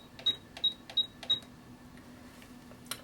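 A sewing machine's needle-position control is stepped along in four crisp, evenly spaced clicks, then a fainter fifth click follows after a pause, all close and quiet.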